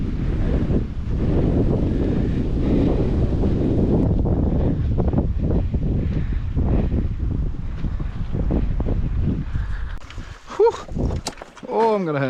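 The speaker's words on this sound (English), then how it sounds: "It's a bit windy" Strong wind buffets the microphone at a seaside fishing spot, a loud continuous roar that eases near the end, where a voice briefly speaks.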